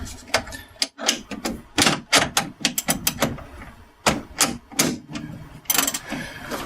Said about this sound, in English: Install our spacer and tighten them up with a socket wrench.